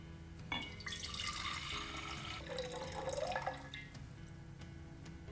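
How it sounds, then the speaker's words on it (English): Water decanted from one glass jar into another on a kitchen scale while preparing brine for fermented hot sauce, a steady trickling pour lasting several seconds, close and fairly quiet. "decant the water from one jar to the other."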